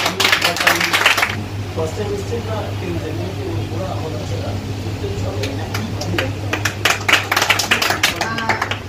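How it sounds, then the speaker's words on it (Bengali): A small group claps hands at a winter gathering of cafe workers celebrating a birthday, bursts of brisk, uneven applause at the start and again near the end over a steady low hum, with murmuring voices between. "সবাই হাততালি দাও।"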